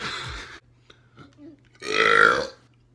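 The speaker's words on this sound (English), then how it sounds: "I think I burp every video." A loud, drawn-out burp from a young man rises near the end after a short break, preceded by brief talk and quiet background murmurs.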